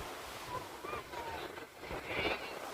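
Surf washing onto the north coast beach at Tanjung Pakis, Karawang, a steady broadband rush of waves with gusts of wind buffeting the microphone, swelling slightly toward the end.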